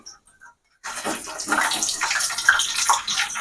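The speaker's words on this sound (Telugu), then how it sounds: "ఆయిల్ పోసుకుందామండి ఎండుమిర్చి వేసి వేయించుకుందామండి" Dried red chillies hit hot oil in a kadai for a curry-leaf chicken fry; after a brief quiet start, a loud, steady sizzling crackle rises abruptly and continues without talk.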